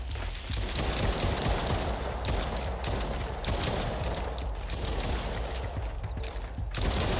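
Rapid, continuous gunfire from a pistol with infinite ammo, shooting waves of aliens in the video game Exome, dense and steady with dips and surges of shots and almost no talk.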